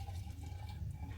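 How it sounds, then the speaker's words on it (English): Homemade Kenyan tea poured straight through a sieve into a flask in a village kitchen, a close, steady liquid splash and gurgle running unbroken for just over a second. "I'm not going to add more sugar, so I'm going just to pour it directly,"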